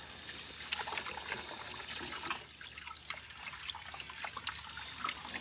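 Cattleya orchid plantlets are rinsed in plain water to wash off black agar. Water trickles and sloshes softly and steadily, close but quiet.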